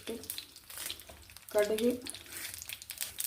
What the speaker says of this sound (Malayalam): വെളിച്ചെണ്ണ ഒഴിച്ച് കടുക്